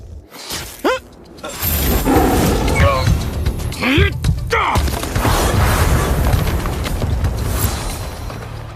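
A tiger roar sound effect in an anime, a loud, close, snarling roar layered with crashing, shattering impacts and whooshing bursts in a dense, continuous action mix.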